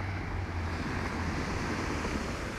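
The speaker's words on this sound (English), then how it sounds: "There's been this wind, it won't leave." Steady wind roars outdoors on a gray, hazy day near clouded mountains, a continuous broadband rush with low gusty buffeting across the microphone, no pauses, no voices.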